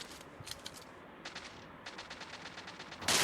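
Gunfire in PUBG Mobile Lite, several quick bursts of rapid shots at a moderate distance, with a sharp louder blast at the very end.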